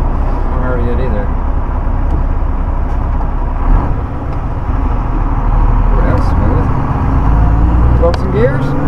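A pickup truck drives along with a loud, continuous engine and road rumble, shifting through gears not very smoothly, with people talking over the steady drone.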